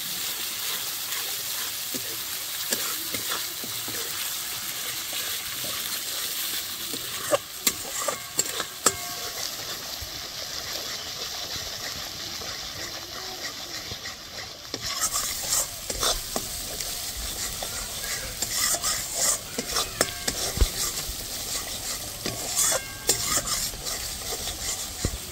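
Masala cooking in a pan after nut paste is stirred in for a jackfruit kofta curry, a long stretch of close scraping and stirring over a soft sizzle, with occasional utensil clinks and no voices.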